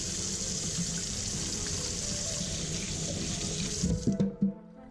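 Tap water runs steadily into a sink while oil is washed off an arm during a DIY oil change on a wrecked SUV, a continuous close splashing stream that shuts off abruptly near the end.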